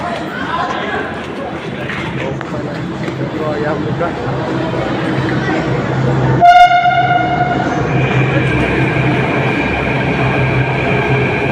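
A metro train rumbles loudly at a busy New Delhi metro station while people chatter; partway through, a clear multi-tone chime rings out and then lingers as steady tones.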